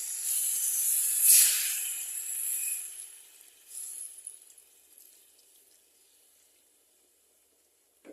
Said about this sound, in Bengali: এখন আমি এখানে এই গরম জল দিয়ে দেবো